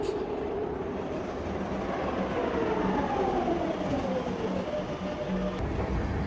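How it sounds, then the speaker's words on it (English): A Madrid metro train rolls along at steady speed, a constant loud rumble with a rising and falling whine and faint rhythmic rail clatter throughout. "I'm dead impressed with the metro system here."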